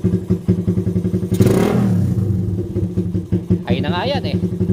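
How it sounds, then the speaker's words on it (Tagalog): A motorcycle fitted with a 32mm carburetor and a 30-hole atomizer idles at low RPM with a steady, even chugging pulse close by, while a person briefly talks over it. "Ay na nga yan eh, low RPM, mas lalong walang pugak, diba?"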